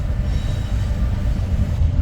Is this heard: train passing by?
yes